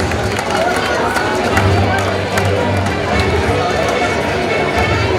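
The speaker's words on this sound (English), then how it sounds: "Let's have a huge round of applause for the winners" Crowd at a film festival award ceremony applauding and cheering the winners, a loud continuous roar of clapping mixed with shouts and babble, steady from start to finish.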